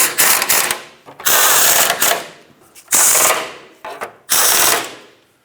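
Ratchet tightening the two longer bolts that clamp the lower shields together on a 1996-2002 Toyota 4Runner, heard as several loud, rapid clicking bursts separated by short pauses.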